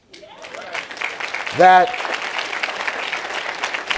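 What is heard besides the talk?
audience applause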